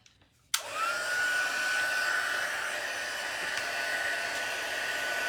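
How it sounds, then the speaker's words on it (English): A heat gun switches on with a sharp click and then blows steadily, a loud, even hiss with a high whine that rises slightly at first and then holds, close by and without talk. "I'm gonna turn on my heat gun again."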